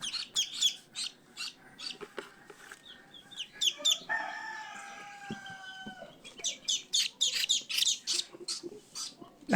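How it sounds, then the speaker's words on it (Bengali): Chinese goose goslings on a Bangladeshi duck and goose farm give repeated sharp, high chirping calls in bursts, near and clear, with a longer squawking call in the middle and a brief voice or two faintly present. "আপনার চীনা হাঁস হচ্ছে এই টাইপের সাউন্ডটা দেবে।"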